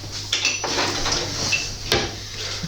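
Metal utensil clinks and scrapes against a pan while cream is stirred, a few sharp knocks standing out over a steady low hum, close and moderately loud.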